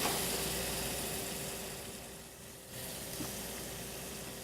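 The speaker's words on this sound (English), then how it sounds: "So we have our butter right here. We'll get our shrimp, throw them in there, careful now." Shrimp fry in butter in a pan, a loud, steady broadband sizzle that dips briefly and then resumes, close by and with no talk over it.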